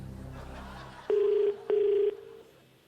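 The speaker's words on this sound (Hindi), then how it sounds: "लग गया टेलीफोन।" Two loud, steady telephone tones sound back to back during a call placed on a Hindi quiz show, each lasting about half a second with a short gap between them, over faint room background.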